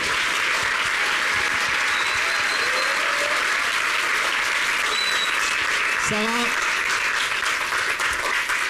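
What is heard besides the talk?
audience applause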